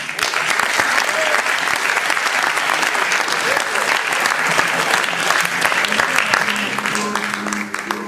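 Dense, loud applause fills a hall for basketball player Clément Farou at the CEP Lorient Basket 2017-2018 season presentation, holding steady throughout with a faint voice creeping in near the end.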